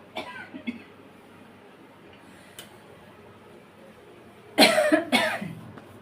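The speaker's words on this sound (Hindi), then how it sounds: "मैं जल्दी बोल रही थी ना, तो इसलिए खांसी हो गई थी।" A single loud cough bursts out close by, followed by a second cough, after a few seconds of quiet kitchen background.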